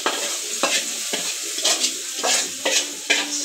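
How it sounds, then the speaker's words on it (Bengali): Garlic, onion and dried chilli sizzle in hot oil in a home kitchen, being fried as a tempering for cooked greens, with repeated stirring strokes and spoon scrapes at a steady rhythm, close and clear with no talk. "আমার শাকটা বাগার দেওয়ার জন্য আমি রসুন, পেঁয়াজ আর শুকনো মরিচ দিয়ে দিচ্ছি"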